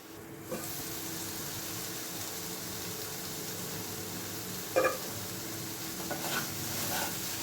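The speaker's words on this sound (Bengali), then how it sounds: "আমি এবারে এইটাকে একটুখানি ঢাকা দিয়ে কষিয়ে নেব, যাতে আলুটা একটু সেদ্ধ হয়ে যায়।" Potatoes sautéing with spices in ghee give a steady, fairly quiet sizzle, broken by a brief louder clink of a spoon midway and light stirring near the end.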